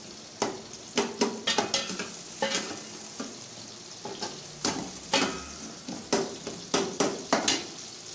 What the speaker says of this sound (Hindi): अच्छे तरीके से हमने फ्राई कर लिया प्याज को।